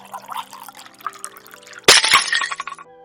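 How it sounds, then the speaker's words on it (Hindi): A clay water pot cracks and breaks with a sudden sharp burst, followed by a couple of seconds of splashing, spilling water, heard close and loud after a quiet stretch. "हे भगवान, मटका ही फूट गया है।"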